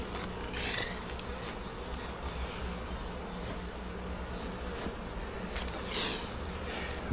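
Honeybees buzz as a beehive is opened for inspection, a steady close swarm drone with individual bees sweeping loudly past the microphone now and then, no talking.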